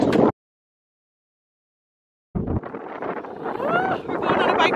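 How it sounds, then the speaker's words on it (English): Strong wind buffets the microphone in a steady, roaring rush after a brief cutout, with a voice briefly audible at the start. "It is so windy."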